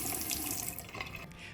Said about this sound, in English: submerge the faucet in it for at least 30 minutes, and then run the faucet again